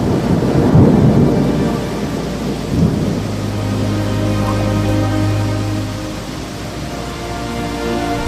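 Heavy rain with deep rolling thunder, a loud rumble early on and a long low roll of thunder over a steady wash of rain.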